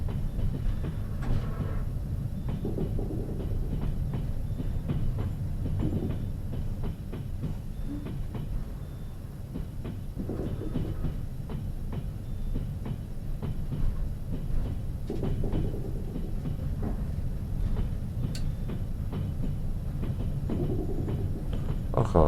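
A train in the Trans Siberian Railway Simulator video game rolls along the tracks, giving a steady low rumble with recurring clickety-clack wheel beats throughout.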